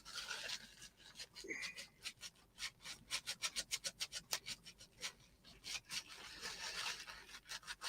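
Gunk degreaser wipe, a slightly abrasive cleaning cloth, scrubbed over a surface in quick rhythmic back-and-forth rubbing strokes, close and fairly loud, with no talking.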